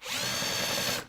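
A drill at low speed countersinks a hole in aluminium angle, giving a brief steady whirring buzz of about one second that starts and stops cleanly, close-up.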